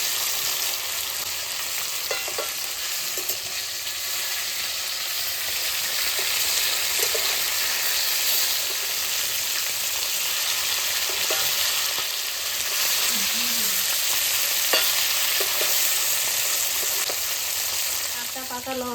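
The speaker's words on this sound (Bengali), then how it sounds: "ইলিশ মাছটা একটু কম কম ভাজা করবো, বেশি কড়া ভাজা দেবো না" Hilsa fish fries lightly in hot oil in a wok, giving a continuous close, loud sizzle with occasional stirring clinks and no talk.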